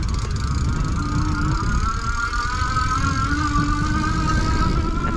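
Folding electric bike motor running on throttle while riding over grass, a steady whining electric hum that rises slightly in pitch, over continuous low rumble from the tires and wind.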